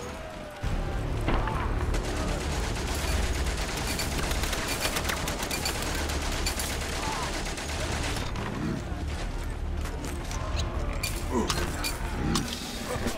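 Rapid gunfire from the World War I video game Valiant Hearts: The Great War crackles continuously under a dense, loud game soundtrack and effects, with a speaker talking at times.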